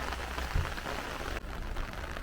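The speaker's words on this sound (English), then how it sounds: "Look at the rain, guys." Steady rain falling outdoors in Białystok, Poland, a dense continuous patter with no break.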